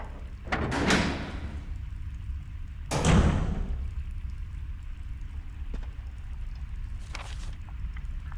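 In the video game Resident Evil HD, a heavy iron door opens with two loud, low rumbling scrapes a couple of seconds apart, followed by a quieter hum and a faint clank near the end.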